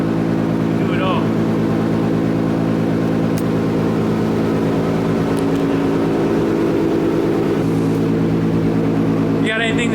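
Turbocharged E85-fuelled car engine with a Z GTR exhaust, running loud and close in a steady, rumbling drone for the whole stretch, with brief higher tones and a faint voice near the end.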